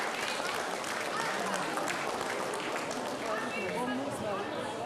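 Festival crowd at a St. Martin's Day wine celebration applauds the stall vendors, a dense, steady wash of clapping filling the whole stretch, with voices and chatter mixed faintly underneath.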